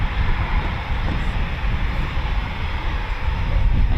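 Two Eurofighter Typhoon FGR4 jets at RAF Coningsby roar with a loud, steady broadband engine rumble that fills the whole stretch without letting up.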